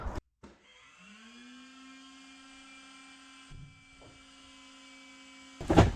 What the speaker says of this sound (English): Meanwhile, I'm still sanding.